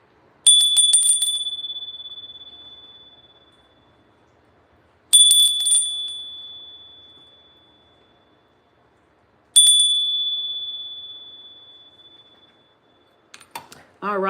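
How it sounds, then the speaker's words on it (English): A small hand bell rung three times to clear energy, each strike a bright metallic ding that rings out and slowly fades over several seconds, followed by a brief clatter at the end. "bells ringing, dinging, clearing space between this and the spirit quartz pile"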